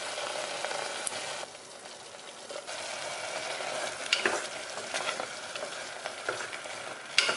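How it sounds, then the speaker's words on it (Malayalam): Ginger garlic paste and green chillies fry in a pan for a chicken biryani, giving a steady hiss with close scraping stir strokes and a few louder clatters, with no voices. "നമുക്കിതിലേക്ക് ഇഞ്ചി വെളുത്തുള്ളി പേസ്റ്റും പച്ചമുളകും കൂടെ ചേർത്ത് വഴറ്റാം."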